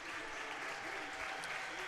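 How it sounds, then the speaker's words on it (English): Crowd at a high school girls' basketball game between Harlan County and Jackson County applauding a player as she leaves the court, a faint, steady clapping from the stands with a commentator talking over it. "Jenna Creech going to come out to a nice hand from the crowd"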